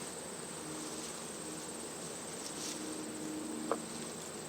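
Honey bees humming around an open beehive during a late-summer inspection, a steady, moderately faint drone of many insects throughout, with one brief tap near the end.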